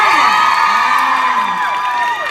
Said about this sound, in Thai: ขอเสียงปรบมือและเสียงกรี๊ดดังๆด้วย